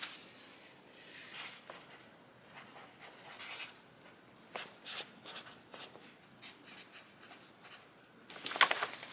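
A pen scratches out notes on the front of a sewing-pattern folder in quiet, close strokes that come in short irregular bursts, with a slightly louder scrape near the end.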